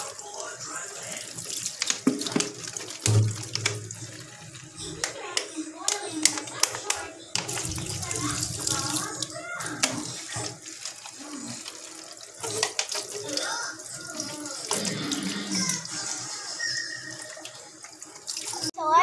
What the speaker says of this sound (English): Okay, now we need to rinse it with clean water.